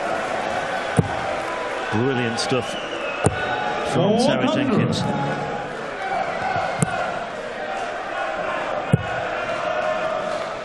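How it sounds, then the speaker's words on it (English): At a professional darts match, a crowd chants and cheers in rising, rhythmic bursts, with darts thudding into the board at intervals and a commentator speaking over the noise. "That's got the crowd going once again."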